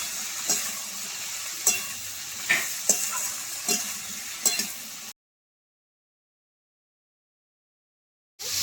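Ripe cucumber pieces sizzle in a hot pan, with a spoon scraping and stirring in a slow, regular rhythm of soft knocks. After about five seconds the sound cuts to complete silence, and the sizzle returns briefly at the very end.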